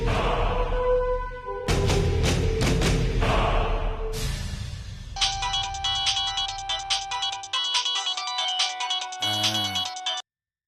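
A mobile phone's ringtone melody plays in a Tamil TV serial, a bright repeating electronic tune that comes in after a stretch of background music, loud and near, before cutting off abruptly.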